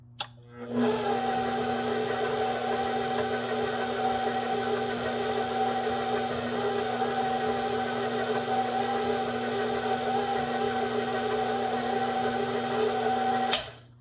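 Stand mixer running steadily on its lowest speed, mixing pound cake batter with apple juice, a constant motor whir with a tonal hum that starts abruptly and continues evenly for the whole stretch before cutting off.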